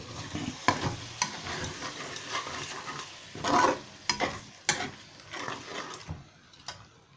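A spoon stirs pointed gourd dorma frying in a pan, giving a continuous soft sizzle broken by irregular scraping and clacking strokes, fairly quiet and close, with no talk.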